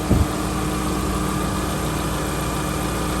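A little Subaru engine idles steadily and close by after a timing belt, cam and crank sprocket, and sensor replacement. A brief knock comes at the start, then the engine hums evenly throughout.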